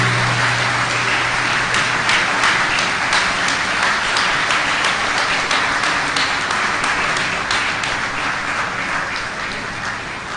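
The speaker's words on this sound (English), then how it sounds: "Please let the applause continue." Sustained audience applause at a seminar on the Finance Act 2019, many hands clapping in a loud, even, rain-like patter for about ten seconds, tapering slightly toward the end.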